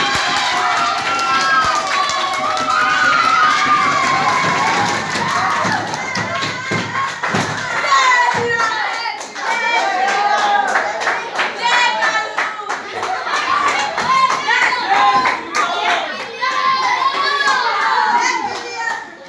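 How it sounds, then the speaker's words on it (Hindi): Schoolchildren at a government senior secondary school in Chakarpur, Gurugram clap their hands in loud, irregular bursts, with children's voices and shuffling thumps mixed through the clapping. "तालियां बजाओ,"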